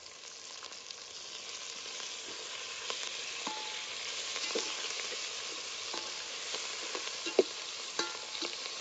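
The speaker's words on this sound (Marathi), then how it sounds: "आता कोथमीर टाकून घेणार आहे त्या फोडणीला" Coriander crackles as it drops into hot oil tempering with turmeric for mutton. The sizzle is steady and fairly faint, with occasional sharper pops and stirring scrapes, and no one speaks.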